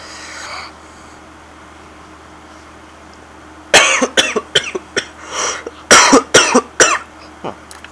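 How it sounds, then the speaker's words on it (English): A person coughs repeatedly at close range during a Half-Life 2 play session: several sharp, loud bursts in quick succession after a few quiet seconds. "First time I coughed all day."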